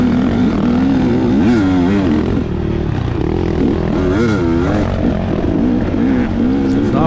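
Race car engine at an outlaw racing event, loud and continuous with rising and falling revs as the driver blips the throttle, mingled with other cars nearby and a faint voice underneath.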